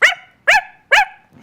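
A voice imitates a dog, giving three sharp, evenly spaced barks, close and loud, with a faint fourth sound at the end.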